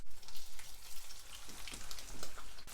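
Fish fillets frying in a thin coat of olive oil in an electric skillet, a steady broadband sizzle with small crackles and pops running throughout at moderate loudness, no voices.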